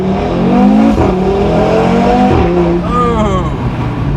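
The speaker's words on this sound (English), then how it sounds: "you can hear that crack when I change gears" An Audi RS3 with retarded ignition timing accelerates hard through the gears. The engine note climbs, then drops at each shift with a sharp crackle, heard loud from inside the cabin with voices.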